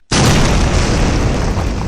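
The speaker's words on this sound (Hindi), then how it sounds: "एक जोरदार धमाके के साथ" A sudden, loud explosion as a house is blown apart bursts in, a sharp onset followed by a sustained roaring boom that fills the whole clip.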